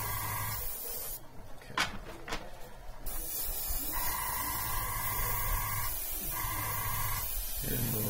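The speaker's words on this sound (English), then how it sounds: "It's one of those brighter air tankless air compressors" Small tankless air compressor powering an airbrush at a hobby desk while painting a Batman figure prototype, a steady hum broken by brief hissy spray bursts and a few pauses in the motor.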